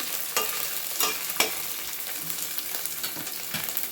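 Chicken dum biryani ingredients are fried and stirred in a pan to brown them. A spoon scrapes in sharp, irregular strokes over a constant close sizzle.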